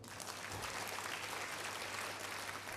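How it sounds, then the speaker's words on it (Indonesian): Audience applause at an Atomy business seminar, a continuous even wash of many hands clapping, moderately distant and filling the room, with no voices standing out. "Tepuk tangan Bapak dan Ibu."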